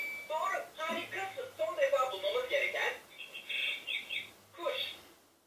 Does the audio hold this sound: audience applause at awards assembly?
no